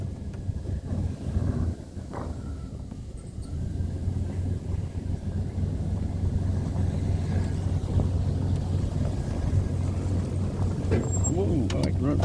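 A car drives along a road in Forest, Louisiana, heading to a dollar store, its steady engine and road rumble building to a continuous close drone with wind buffeting the microphone and occasional talk over it.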